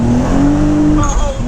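A car with rolling anti-lag is held at full throttle over 3,000 RPM, giving a loud, close, sustained engine roar whose pitch holds and climbs, with a brief higher whine near the end.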